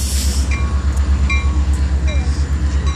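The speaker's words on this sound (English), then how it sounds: "We go to Chicago on that train." A train rumbles past close by with a steady rhythmic low drone, faint high squeals and clicks riding over it.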